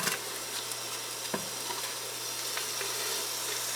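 One medium diced onion sizzling in heated olive oil over medium heat, a steady soft frying hiss with occasional stirring clicks, close and alone.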